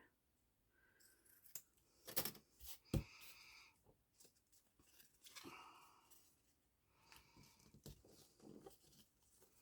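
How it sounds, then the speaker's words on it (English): Scissors snip through 3-inch ribbon while a jumbo fold hair bow is made, giving a few sharp close cuts in quick clusters among soft rustling handling noise, with no talking. "Let me just trim this down a little bit and do a little bit skinnier version."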